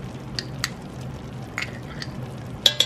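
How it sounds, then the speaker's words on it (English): Minced garlic frying in a pan while being stirred: a soft steady sizzle with scattered scrapes and clicks of the utensil against the pan, closing with two sharper knocks. "And I'm gonna stir that and until it becomes fragrant"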